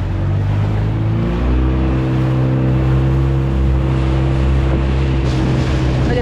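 A motorboat engine runs steadily at close range at about 10 knots on calm water, a loud continuous low drone with a faint wash of water and wind beneath it.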